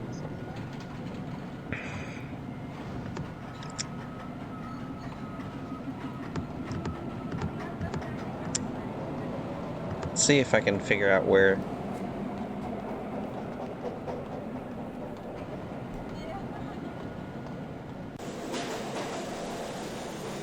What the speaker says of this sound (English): I hear the subway.